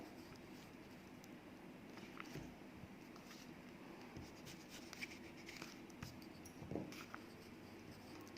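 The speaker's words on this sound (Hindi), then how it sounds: "तो मैं लिख रही हूँ यहाँ पर" Pen or pencil writing on paper during a Hindi language lesson for class 6, a faint, soft scratching that comes and goes in short strokes over low room hiss, with no talking.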